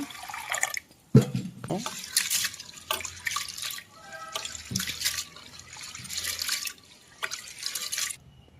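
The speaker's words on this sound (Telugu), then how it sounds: "పప్పుని మూడు సార్ల వరకు ఇలా శుభ్రంగా కడిగేసిన తర్వాత" Lentils being washed in water, with repeated bursts of tap water, dripping and swishing in a pot, broken by short pauses and some quiet talk.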